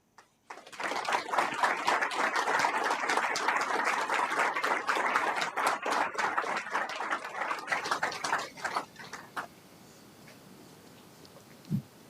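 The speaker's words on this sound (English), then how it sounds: "Colleagues, please, another round of applause for Professor Casale." Sustained applause from an audience after a university inaugural lecture in economics, dense steady clapping that swells, holds for several seconds, then thins out into scattered claps and quiet room noise.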